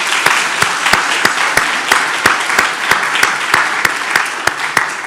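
Audience applause at a panel on addressing multiple crises to end gender inequality, a steady wash of many hands clapping with sharp individual claps standing out, moderately loud and continuous without talk.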